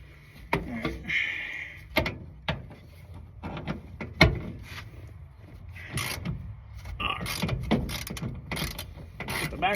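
Hand ratchet working bolts loose on a 1971 Chevrolet C10 truck, with a run of sharp mechanical clicks and clanks at irregular spacing, close by and fairly loud against a quiet shop background.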